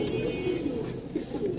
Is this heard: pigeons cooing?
yes